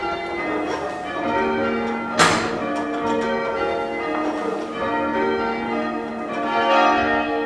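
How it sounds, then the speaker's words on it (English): Church bells ring at Winwallow Church, Church Cove on the Lizard in Cornwall, overlapping peals with ringing overtones, one sharper strike standing out, moderately loud and close. "The bells ring out at Winwallow Church, Church Cove, the Lizard, Cornwall."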